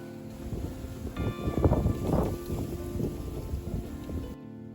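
Gusty morning wind in the Japanese countryside buffeting the microphone, rising and falling for a few seconds with rustling, then cutting off abruptly.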